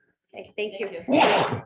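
A sneeze breaks out in a county board meeting room, a loud broadband burst near the end that follows brief spoken thanks from a nearby voice.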